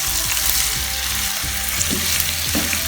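Onions hitting hot oil in a pot for vegetable biryani, a loud, dense, continuous sizzle close up with faint bumps from stirring, no talking.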